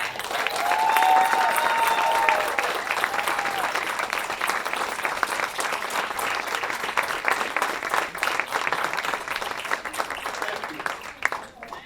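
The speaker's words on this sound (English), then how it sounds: "let's give one more round of applause." Sustained applause from a large audience at an awards and recognition ceremony, loud and dense at first and gradually thinning, with a few voices mixed in.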